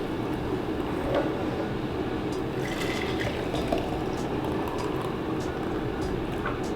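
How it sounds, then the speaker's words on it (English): Juice poured from a container into mason jars during kitchen meal prep, a steady close liquid trickle and splash running continuously under a low background hum. "So what I'm gonna do, I'm just gonna open these up"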